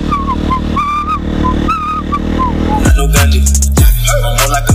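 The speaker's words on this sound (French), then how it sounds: "C'est comme ça qu'on fait chauffer les motos, les gars." A motorcycle engine is revved hard to warm it up, loud and close, with a steady idle and harmonic whine giving way to two sharp throttle blips that roar and fall back.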